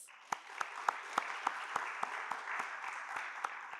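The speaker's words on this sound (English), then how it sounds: "Let's give them both a well-deserved round of applause." Applause for two school teams at a national secondary schools debate final: a steady, evenly spaced clapping beat over a soft crowd wash, moderately faint.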